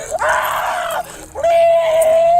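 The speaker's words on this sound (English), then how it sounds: "was screaming from the dog bites" A man screams in pain while being bitten by a police dog during an arrest, two loud, close, drawn-out anguished cries separated by a brief gasp.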